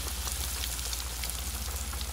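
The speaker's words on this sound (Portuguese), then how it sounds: "Isso, na panela com óleo quente." Pastéis fully submerged in a pan of hot oil over high heat give off a steady, close, crackling sizzle that holds evenly throughout, with no voices.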